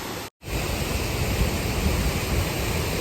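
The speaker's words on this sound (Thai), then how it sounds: "ลักษณะของน้ำตกตาโตนนะครับ" Tat Ton waterfall in Chaiyaphum, water rushing over large and small rocks, a steady, dense, close roar with no pauses apart from a split-second dropout near the start.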